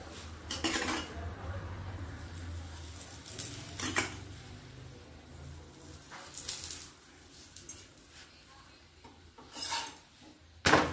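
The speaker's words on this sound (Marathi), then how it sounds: "पराठा उलटा करून घेते." A paratha flipped on a hot griddle with a metal spatula, several scraping clanks spread out amid a low sizzle and kitchen clatter, close and moderately quiet, no speech.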